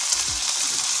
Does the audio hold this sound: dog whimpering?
no